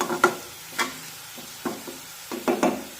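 Onions sautéed over medium heat in a pan until golden, for a methi matar malai bhaji, give a soft, low sizzle broken by several intermittent scraping stirs.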